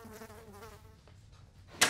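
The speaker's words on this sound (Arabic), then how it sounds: "ما انا لازم بموت الدبانة دي" Housefly buzzing near a person in a comedy scene, a faint wavering drone that sits under a low voice and ends in a sharp loud slap or hit.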